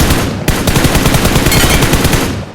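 Sustained automatic fire from an M762 assault rifle in the battle royale game PUBG, a loud, dense, rapid stream of shots that runs almost unbroken for over two seconds before trailing off.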